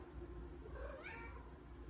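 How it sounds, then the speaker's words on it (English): A house cat gives a single short meow indoors, faint and close, rising and falling within about a second over low room noise. "yes, that was my cat,"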